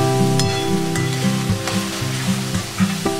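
Onion and green chilli pieces frying in oil with whole spices such as pepper and dried red chillies for a chicken masala gravy, a steady close sizzle with a few scraping stirs and clinks, no voices.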